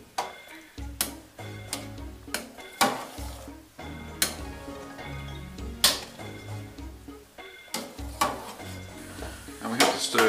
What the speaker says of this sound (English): they're starting to break down now as I stir it